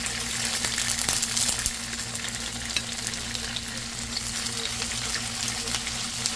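Cauliflower frying in a pan, a steady dense sizzle with occasional stirring scrapes and clinks, continuous and fairly close throughout, with a low hum underneath.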